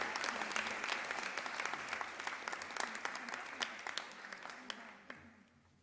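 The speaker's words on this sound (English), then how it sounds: "Please give them all a round of applause." At a girls' high school awards ceremony, an audience claps in a sustained burst of applause that fades near the end, with a faint voice underneath.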